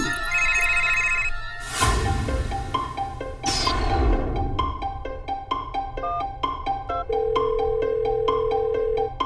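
A telephone ringtone repeats with a bright electronic tone over a busy musical background with sharp whooshing hits, the call left unanswered and no voices heard.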